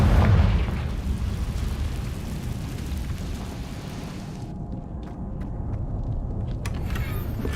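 Explosive Confringo spell blast in Hogwarts Legacy on hard mode, a loud booming burst at the start followed by a sustained rumbling roar that fades slightly, with game ambience continuing.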